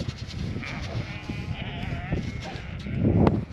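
Sheep on a farm during lamb weaning bleat in short wavering calls, some close and some farther off, amid a constant low din of rustling and movement.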